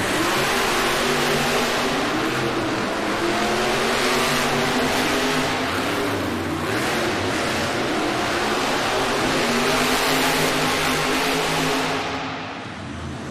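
Monster trucks racing side by side in an indoor arena at a Monster Jam event in Worcester, Massachusetts: a loud, sustained roar of big engines revving and straining throughout, easing slightly at the end.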